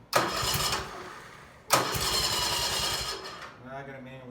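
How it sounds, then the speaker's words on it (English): A Dixon riding mower engine is cranked and catches in two bursts, sputtering loudly and running rough before dying down into a fading, warbling wind-down. "Let's fire it up."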